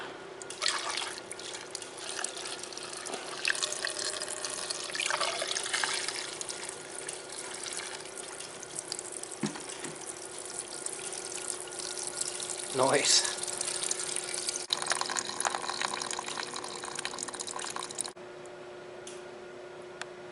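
Gasoline pours steadily through a vintage scrapyard generator for a long stretch, a continuous trickling and splashing, with a brief spoken remark partway through.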